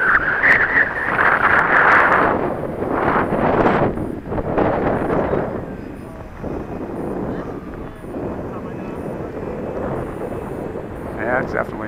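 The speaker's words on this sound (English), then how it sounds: "Yeah, it's definitely windy." Wind roars against the microphone at an RC model airplane flying field, loud buffeting gusts that ease off partway through, with people talking nearby.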